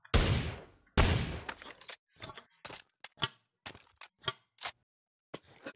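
Double-barrel shotgun in the VR shooter Pavlov: two loud blasts with decaying tails, then a run of sharp, evenly spaced mechanical clicks and clacks as the breech is opened, shells loaded and the action snapped shut, with no voices.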